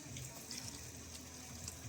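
Water pours into a pot of usal (sprouted bean curry) cooking on a wood-fired clay stove, a soft steady splashing flow, close but quiet.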